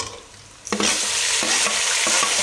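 Red chillies and tomatoes frying and being stirred in a pan for fish biryani, a quiet start then a bright continuous sizzle with scraping stirs, close and alone.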